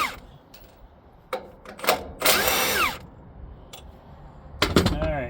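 A power tool, likely an impact gun, breaks bolts loose on a bracket of a JLG Ultra Boom lift under repair. Short loud bursts of whirring and hammering come in several spurts with quiet gaps between them.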